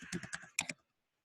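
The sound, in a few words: typing the word breakfast on a keyboard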